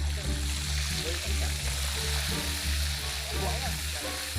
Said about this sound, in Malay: Ni kita kena goreng kering.